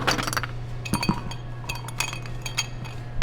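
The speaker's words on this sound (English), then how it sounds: "So I'm going to start with a little ice in my glass." Ice cubes clink into a glass for a home gin and tonic, a rapid scatter of sharp, close knocks and rattles that settle into a few lighter taps, with no talking.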